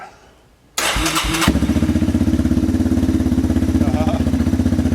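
After a moment of quiet, a small lawnmower engine catches with a loud rattle and settles into a steady, pulsing idle close by.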